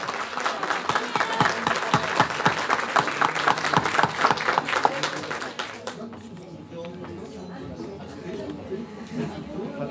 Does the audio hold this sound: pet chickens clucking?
no